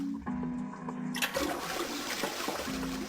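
A pull-chain toilet in a video game flushes, beginning with a faint tone, then a sudden loud rush of water that swirls and drains steadily.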